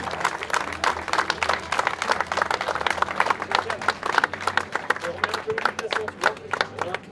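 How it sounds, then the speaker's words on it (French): Scattered applause from a small outdoor crowd at a fishing competition prize-giving, honouring the winning team; irregular claps ring out steadily across the whole stretch with a faint background murmur. "On peut les applaudir, ils ont vraiment bien pêché."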